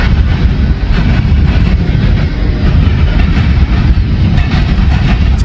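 CSX freight trains roll through a crossing where two CSX lines meet, a loud, continuous rumble of heavy cars with steady rail clatter, heard alone without voices.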